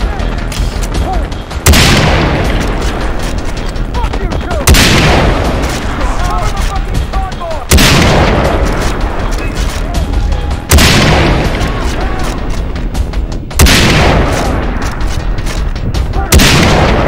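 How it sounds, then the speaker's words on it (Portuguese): Loud explosions and gunfire from the video game Far Cry 3, with big booms landing roughly every three seconds and continuous shooting and crackle filling the gaps between them. "I'm triggering the explosion."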